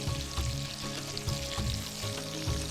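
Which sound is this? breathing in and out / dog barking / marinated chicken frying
marinated chicken frying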